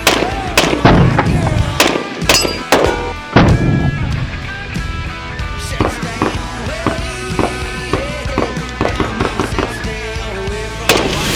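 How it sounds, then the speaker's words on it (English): Gunshots from a SIG MCX pistol fitted with a brace, fired outdoors as a loud, rapid string of sharp cracks spread across the whole stretch, with echoes ringing between shots. "This thing is incredibly heavy for a pistol, but we're gonna go shoot the crap out of it right now."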